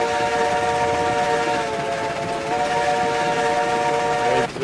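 A steam freight train in the RailRoads Online game, the Ruby Basin locomotive, rolls at full speed toward switches, its whistle holding a loud, sustained chord over continuous rumble for nearly five seconds.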